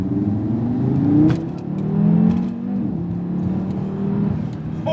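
A 2018 Audi RS3 Sedan with quattro drive revs its engine up and down in a couple of loud swells, close by and steady, with no talking over it.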